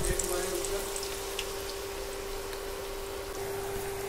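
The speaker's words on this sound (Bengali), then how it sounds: "ব্যাটার থেকে এরকম করে ব্যাটারটা দিয়ে এই তেলে দিয়ে ভেজে দেব" Bread slices coated in batter frying in hot oil, giving a faint, steady bubbling sizzle throughout with a low hum in the background.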